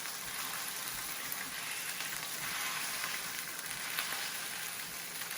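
Pork chops sear in a hot frying pan with a dense, steady sizzle and crackle. The sound is close and continuous, with faint spitting pops and no voices.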